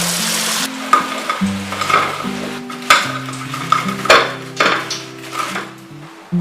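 Fried Chinese yam pieces are lifted from hot oil to drain, with a sizzle under sharp clinks and scrapes of utensils against the pan and draining rack.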